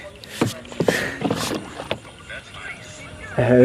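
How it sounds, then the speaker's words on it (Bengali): A wooden boat is rowed one-handed on a river with a strong current, with splashes and paddle strokes coming in bursts over wind and water noise, and a steady engine-like tone building near the end. "আমি এক হাতে মানে নৌকা চালাচ্ছি"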